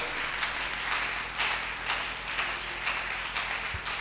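Church congregation applauding and cheering to acclaim the Lord, sustained clapping in rhythmic swells that fills the room, no one speaking over it.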